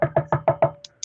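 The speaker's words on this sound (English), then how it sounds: "They knocked on the door." Five sharp, evenly spaced knocks rap on a door, close and resonant, followed by a couple of faint lighter ticks.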